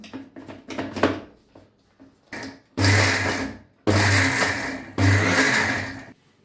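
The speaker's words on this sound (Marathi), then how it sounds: "चालू बंद चालू करून मिक्सरला लावूया आपण" A mixer grinder grinding amla chutney whirs loudly in three separate bursts, with short pauses between them, after some clinking and handling sounds.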